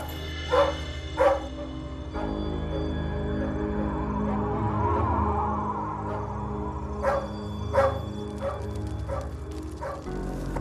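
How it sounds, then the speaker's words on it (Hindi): A pet dog named Tommy barks in scattered bursts, a few sharp woofs, then a pause and more barks, heard indoors over a steady background hum and music. "चेक तो मैंने भी किया, सब ठीक ठाक है, फिर भी ये भौंक रहा है।"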